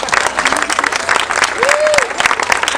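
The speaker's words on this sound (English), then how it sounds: "think you should all give yourselves a round of applause." An audience at a survivor's talk applauds itself, a continuous loud wash of many hands clapping with a voice briefly calling out over the crowd.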